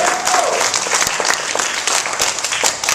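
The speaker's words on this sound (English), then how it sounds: "I love it when you applaud." Audience at a comic creators panel applauds, a loud dense burst of clapping from a crowd that keeps going evenly for a few seconds, close and full.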